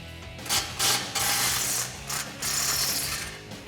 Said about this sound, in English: First step of the install here is grab your 13 millimeter socket.